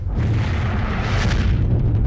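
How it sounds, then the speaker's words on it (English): A dense, continuous roar of heavy rumbling blasts as explosions rock a laboratory, loud and close, with booming low end and no clear gaps between the explosions. "As explosions rocked the laboratory, Ripcord's team"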